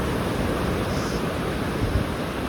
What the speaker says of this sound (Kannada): ಅಲೆಗಳು ಸದ್ ನೋಡಿ ಹೆಂಗೆ ಕೇಳಿಸ್ತಿದೆ.